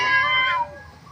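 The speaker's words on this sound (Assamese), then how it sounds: "এইটো এটা বাঘৰে ৰূপ হয় বুলি কয় ৱাইল্ড কেট" A wild cat at a zoo gives a single close, loud meow-like call lasting about half a second, trailing off into quiet background.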